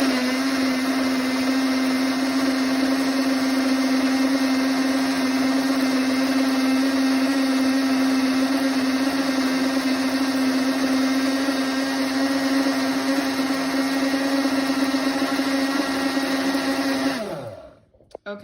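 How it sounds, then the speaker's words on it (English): A blender runs steadily for about seventeen seconds, mixing a smoothie of pineapple, berries and spinach, with a loud, even motor whine that winds down at the end. "It still needs a couple more minutes on the blender."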